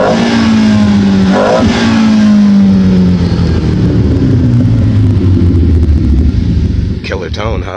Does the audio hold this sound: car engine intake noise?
yes